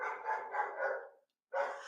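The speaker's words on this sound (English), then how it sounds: "sorry about my dog." A dog barking indoors, a short run of three or four quick barks close by, a brief pause, then another bark.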